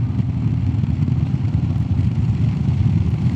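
Royal Enfield Classic 350 single-cylinder motorcycle cruising in fifth gear at about 50, its engine a steady low, dense thrum with even, unbroken loudness and no voices.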